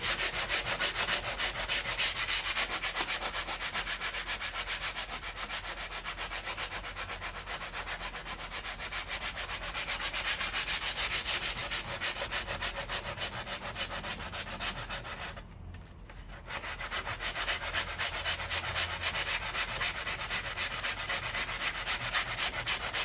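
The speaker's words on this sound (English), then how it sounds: "So first I'm gonna start by using the sanding block, and just basically get a bit of a shape going on" A sanding block rubs steadily back and forth over the rear arch bodywork of a BMW E30 in continuous rough strokes, close and fairly loud, with a brief pause near the end before the sanding resumes; no one speaks.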